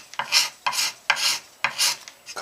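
Hand scraper dragged across wood on a guitar build, giving four crisp rasping strokes with a soft attack and a hiss that swells then fades, close and clear with no talking.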